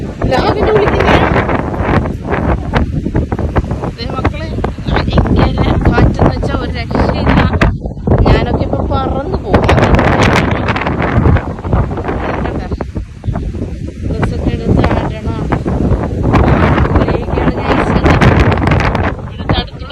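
Strong wind at the seashore, with rough waves, roars and buffets across the microphone in loud, gusting bursts that continue throughout, with voices mixed in.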